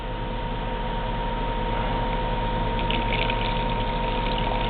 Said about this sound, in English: I'll dump it out like that so there's a wet spot, and then I will fill that water bowl back up.